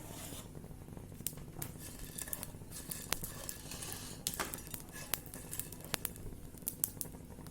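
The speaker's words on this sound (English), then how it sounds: "Now frying in the coriander seeds." Coriander seeds crackle and skitter in a dry pan, a steady sizzling hiss dotted with sharp pops and light clicks as they shift and toast.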